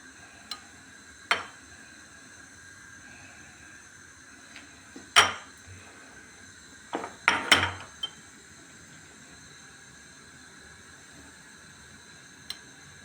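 A pot of stuffed peppers gets handled and set on the stove, giving a few scattered metallic clanks and knocks in a quiet kitchen, loudest in a short cluster in the middle.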